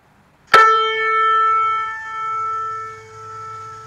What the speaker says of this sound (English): You start with a double string unison that's out of tune.